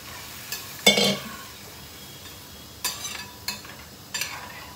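Milk is poured into ghee-roasted vermicelli with raisins and almonds, producing a soft sizzle and a few scattered stirring clinks in a quiet kitchen.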